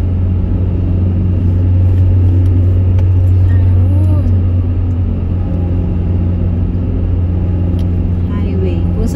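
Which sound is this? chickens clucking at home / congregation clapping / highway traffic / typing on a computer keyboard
highway traffic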